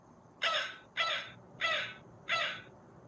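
A person imitates a crow with four loud, harsh caws, evenly spaced and close, with no other sounds between them.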